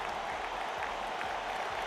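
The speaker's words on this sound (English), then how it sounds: "Thunderous applause flooded the tent." Steady, dense applause from a crowd inside a performance tent in the video game Radiant Tale, a continuous even wash of clapping that holds at the same level throughout with no voices on top.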